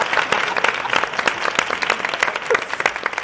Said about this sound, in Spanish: Digo así que otro fuerte aplauso para ellos.